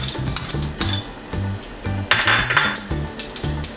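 Mustard seeds hitting a hot pan with methi seeds already in it, giving a light sizzle and crackle alongside clinks of a utensil against cookware, under steady rhythmic background music.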